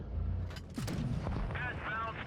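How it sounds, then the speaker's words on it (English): A tank cannon fires in World of Tanks Blitz, a loud close boom with a booming tail, followed by mechanical clanks and other game sounds. "Get one more shot."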